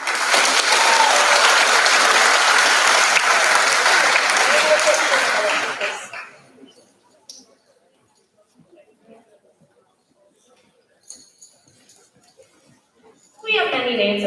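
An audience at a senior awards ceremony breaks into loud sustained clapping for about six seconds, then it fades out into near silence with faint scattered noises before a voice returns at the end.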